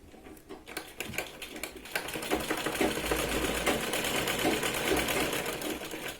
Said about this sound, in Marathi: तिरकशी शिलाई लावायची शोल्डरला